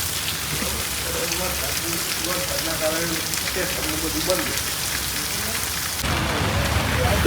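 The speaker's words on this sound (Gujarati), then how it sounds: "થોડાસા ધોધમાર વરસાદ હજી તો ચાલુ છે" Heavy rain pours steadily onto a four-way street junction during a downpour, a dense close hiss that runs throughout while someone talks over it.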